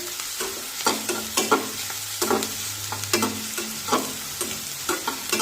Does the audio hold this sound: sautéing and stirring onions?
yes